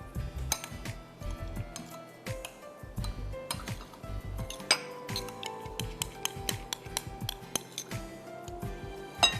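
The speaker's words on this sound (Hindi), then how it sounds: "लेमन जूस डालते हैं क्रीम में। और इसको आप मिक्स करिए।" A spoon stirs cream and lemon juice together in a bowl to make sour cream, giving rapid, irregular metallic clinks and scrapes against the dish, close and fairly loud, with no talking.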